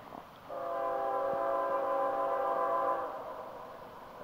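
A locomotive horn of FEC202 on the Florida East Coast Railway sounds one long, steady blast of several layered tones lasting a few seconds, then fades into quiet rail rumble.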